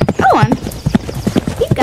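Horse hooves clip-clop in uneven steps beside a whinny, while a rider talks over them at close range.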